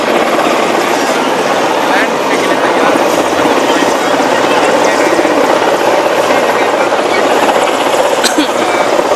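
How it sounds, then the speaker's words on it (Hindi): An Indian Air Force helicopter comes in to land at an outdoor event, its rotor and engine roaring loud and steady throughout, with a crowd murmuring underneath. "वायुसेना का ये हेलीकॉप्टर है जिसमें रक्षा मंत्री राजनाथ सिंह हो सकते हैं और देखिए अब ये लैंड होने के लिए पूरी तरह से तैयार है"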